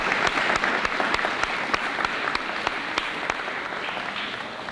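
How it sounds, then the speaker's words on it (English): An audience at a Port Huron High fine arts festival applauds steadily for an assistant superintendent, a mid-sized crowd clapping evenly for several seconds, moderately close. "a nice round of applause"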